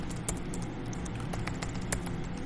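Close typing on a computer keyboard, a quick irregular run of soft clicking keystrokes with a few sharper taps standing out, heard alone with no voice.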